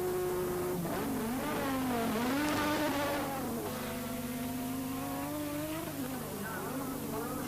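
A 1986 Formula 1 race car accelerates out of the pits, its high engine note rising and falling through gear changes, loud and continuous over a steady background drone, with a second engine layered in.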